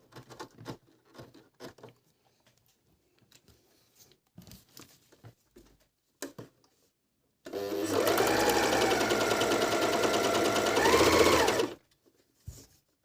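A Medion MD-19169 overlock sewing machine runs in one continuous loud whirring burst of about four seconds, between quiet handling clicks and rustles of fabric.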